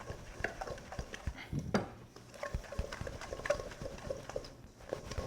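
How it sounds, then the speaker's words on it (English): A spoon stirs egg yolks into a pie dough mixture in a bowl, giving a close, irregular run of soft scrapes and clinks that carries on without pause. "We're just going to kind of incorporate it until the eggs has been absorbed. So stir it."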